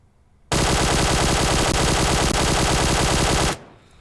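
A QBZ assault rifle fitted with a compensator fires one continuous full-auto burst of about three seconds in PUBG Mobile, loud, rapid and evenly paced, with no talk over it.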